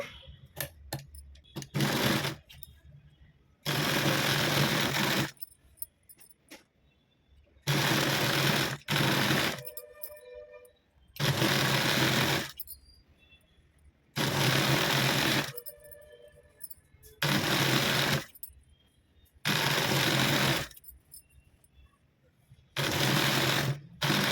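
Sewing machine stitching a bar tack across cloth for saree-end potli buttons, running in repeated loud bursts of about one to two seconds separated by short pauses.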